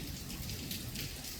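Torrential rain pours down steadily in a storm in south-east London, coming in through a window, a dense continuous hiss of heavy drops on surfaces, close and unbroken throughout.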